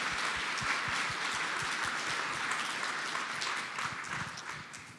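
An audience at a conference finale applauds a modeling and forecasting team, sustained dense clapping from a crowd, fairly distant, tapering slightly toward the end.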